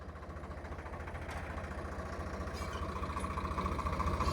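A Swaraj 855 tractor, fitted with undersized tyres and working a seed-potato harvest, idles with a steady low diesel thumping that grows gradually louder and nearer, with no voices over it.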